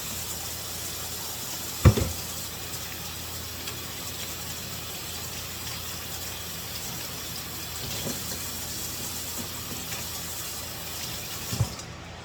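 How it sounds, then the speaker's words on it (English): Water from a tap runs in a steady broadband rush while hands are washed beneath it. A few soft knocks and bumps break the even flow. "let me wash my hands"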